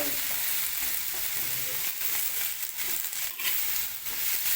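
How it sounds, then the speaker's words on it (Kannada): Tomatoes frying in a pan give a continuous loud, close sizzle with stirring scrapes throughout, and no one speaks. "ಟಮಾಟೆನ ಜಲ್ದಿ ಹುರಿಯೋದು"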